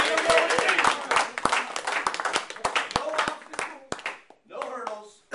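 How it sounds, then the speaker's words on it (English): Scattered audience clapping at a motivational management talk, several distinct claps over a bed of clapping and chatter, voices talking through it, tapering off toward the end. "Let's get a round of applause."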